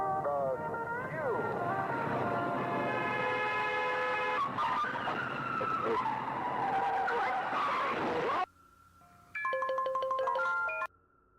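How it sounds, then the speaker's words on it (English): Tires screech in a long, loud skid from a car in the horror game The Walten Files, followed by a sudden cut to quiet and a harsh electronic crash burst, with a voice talking underneath. "And then the car crashes."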